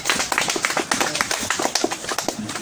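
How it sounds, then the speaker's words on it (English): A talk show audience gives a round of applause that is close and uneven. Sharp individual claps rattle at a quick, irregular pace, and a few hands are distinct rather than blended into a crowd roar. "Give him a round of applause."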